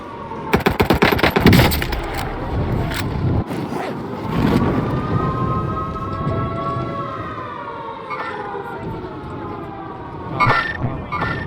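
Heavy automatic gunfire in Call of Duty Warzone on Rebirth Island, a loud burst of rapid shots at first, then further bursts mixed with rising siren-like tones and game effects.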